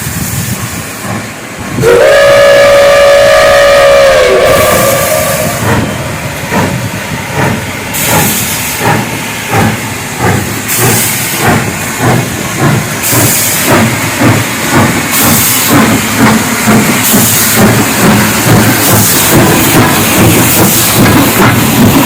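Retro New Year steam train in Lviv sounding a loud steam whistle for a couple of seconds, then chuffing rhythmically with repeated hissing bursts of steam as it pulls away, close and powerful.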